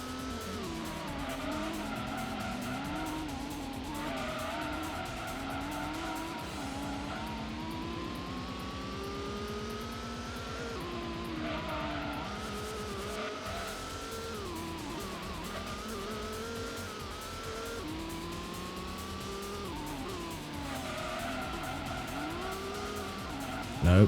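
Race car engine in Gran Turismo's GT Mode Tuned Car Cup, steady loud revving with shifting pitch as it accelerates and downshifts, tires squealing through corners, continuous throughout.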